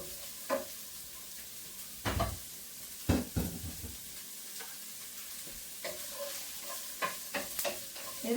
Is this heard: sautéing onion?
yes